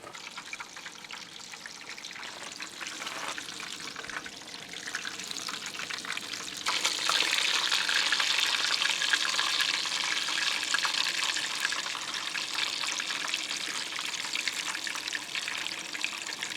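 An egg sizzles in a pan at a backcountry lakeside campsite, a steady hissing crackle that swells louder partway through and holds, close and continuous with no talking.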